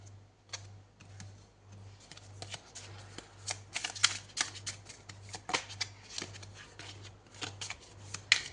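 Tarot-style cards for a horoscope reading being shuffled by hand, a steady run of crisp riffling flicks and soft slaps close up, with a faint low hum underneath.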